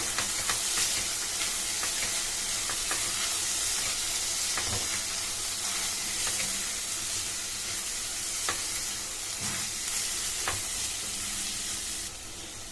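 Carrot and moong dal curry stirred with red chilli powder, salt and coriander powder in a hot pan, a dense steady sizzle with intermittent spoon scrapes, close and loud without talk.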